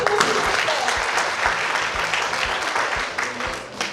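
Audience applause at a youth talent event promoting regional biodiversity, a steady burst of many hands clapping throughout, loud and close, with no voices over it.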